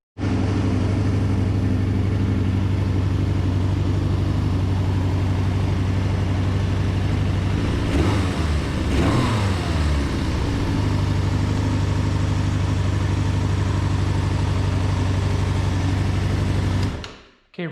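A Suzuki Bandit motorcycle engine runs steadily after its carburetors were cleaned and reassembled, a loud, even idle close to the microphone that holds for the whole stretch with a brief rise in the middle before cutting off.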